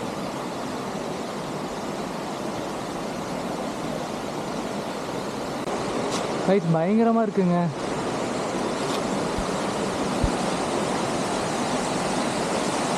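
Steady roar of falling water at Atla waterfall in Palakkad, Kerala, a continuous broadband rush close by, with someone briefly talking over it.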